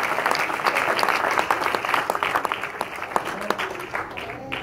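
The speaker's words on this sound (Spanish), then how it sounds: "Den un aplauso al Señor Jesucristo." Church congregation applauding, a full, sustained wash of clapping that gradually thins toward the end, with a voice emerging faintly beneath it.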